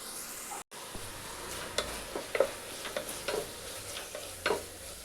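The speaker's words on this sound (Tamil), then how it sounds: "இப்போ தக்காளி பாருங்க நல்லா வதங்கிடுச்சு" Tomatoes with coriander and mint leaves sauté in a pan, with a soft background sizzle broken by several distinct scraping stirs of a spoon, close and moderately loud.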